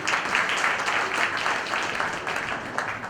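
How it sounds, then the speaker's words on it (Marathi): Audience applause at a Marathi language pride event, sustained clapping from a crowd filling the whole stretch at steady volume with no voices over it. "टाळ्या झाल्या पाहिजेत यासाठी."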